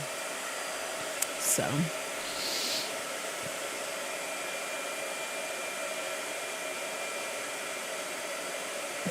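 A hair dryer blows in a steady, unbroken rush from start to finish, with a brief voice and a couple of short clicks early on.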